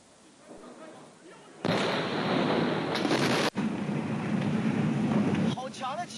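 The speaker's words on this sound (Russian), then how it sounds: "Два взрыва прогремели с разницей буквально в 30 секунд." Explosions at the Tianjin industrial zone: a sudden loud blast erupts, then a sustained roaring rumble with a second sharp burst partway through, with faint voices before and after.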